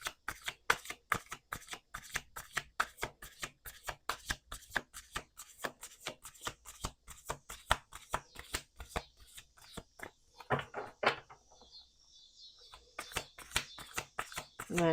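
Tarot cards being shuffled in a long run of crisp, rapid riffles and flicks, close and steady, pausing briefly near the end before the cards rustle again.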